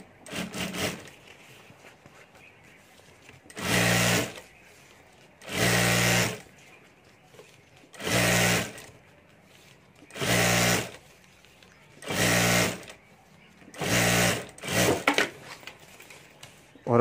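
Sewing machine stitching the top edge of a fabric lunch box lining, running in seven loud bursts of about a second each, separated by short quiet pauses with faint handling.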